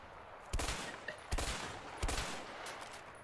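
Three spaced gunshots blast in a video game as a player fires at empty houses, each crack sharp and loud with a short tail, alone with no talk.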